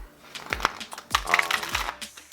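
Tarot and oracle cards being shuffled by hand, a few crisp riffling bursts and soft slaps close up, separated by brief pauses.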